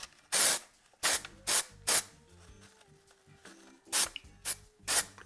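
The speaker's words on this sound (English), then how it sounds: "It does spray out very cold though." Temporary copper hair color spray from an aerosol can mists onto locs in several short, forceful hissing bursts, separated by quiet gaps and soft handling noises.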